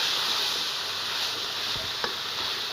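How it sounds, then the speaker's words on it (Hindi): Onion and capsicum fry in a pan with a steady, close sizzle and the occasional scrape of a spoon stirring the vegetables. "2 से 3 मिनट हमने वेजिटेबल को अच्छी तरह कुक कर लिए"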